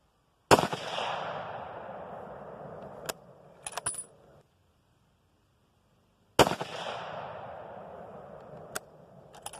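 Two sharp, loud .30-06 rifle shots fired at a target at the edge of the woods, each a cracking blast followed by a long decaying rumble, spaced about six seconds apart, with light metallic clinks between them.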